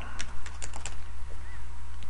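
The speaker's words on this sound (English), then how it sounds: "I'm just typing something in here real quick." Fingers type quickly on a computer keyboard, a close run of irregular clicky keystrokes over a steady low hum, with no one speaking.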